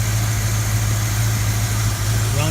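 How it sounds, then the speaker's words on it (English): A car engine idles steadily up close, a smooth, even low hum with no knocks or sputters. "Car idles nice, smooth."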